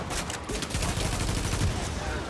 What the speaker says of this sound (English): My gun's awful. It's like a little submachine gun.